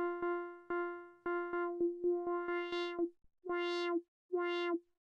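Voltage Modular software synth note sequence run through a filter with resonance raised, giving pulsing repeated tones that shift in timbre and end in longer sustained, ringing notes, clean and without talk.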